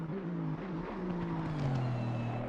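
Aston Martin GT3 race car in the Assetto Corsa Competizione sim at Bathurst, its engine giving a low, steady rumble that holds close and constant throughout with no talk over it.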